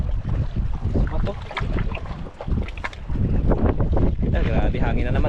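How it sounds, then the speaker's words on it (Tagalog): Wind roars steadily across a small fishing boat at sea, a loud, gusty rush with flapping and buffeting against the microphone, rising and easing over a few seconds while a voice speaks briefly. "Grabe, hangin na naman, ay."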